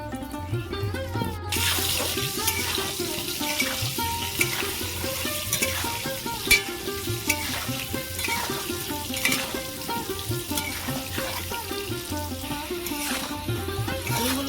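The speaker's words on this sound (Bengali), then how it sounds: "ওই তেলের মধ্যে আমি আলুগুলো ভেজে নেব" Potatoes frying in oil left over from frying eggs make a continuous close hiss with occasional stirring clicks, set against a steady tonal background sound throughout. Nobody speaks.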